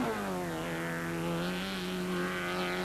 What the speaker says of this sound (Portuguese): Outro Citroën AX, este de Grupo A e guiado por Jorge Carpinteiro.